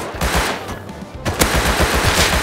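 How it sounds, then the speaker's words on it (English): Rapid gunfire from a gun in the survival game Rust, a loud run of repeated shots in quick rhythm with sharp single cracks mixed in, close and dense throughout with no voices. "I shot him, hit him once."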